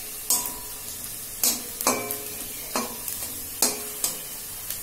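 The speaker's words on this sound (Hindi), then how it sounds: "हमारा प्याज फ्राई हो गया है" Onions sizzle in a hot pan for samosa filling while a utensil stirs them in several distinct scraping strokes spaced about a second apart, over a soft constant frying hiss, with no talking.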